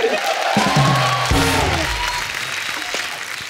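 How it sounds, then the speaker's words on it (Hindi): Studio audience clapping on the Indian TV comedy programme The Kapil Sharma Show, a loud burst of applause mixed with crowd noise and musical stings, fading slightly toward the end. "इनके लिए जोरदार ताली हो जाए"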